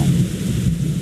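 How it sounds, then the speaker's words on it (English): A thunderstorm at sea in Assassin's Creed Rogue gives a continuous low roar of thunder and heavy rain, loud and steady throughout the short stretch. "I don't know why you'd have all your sails out in the middle of a thunderstorm."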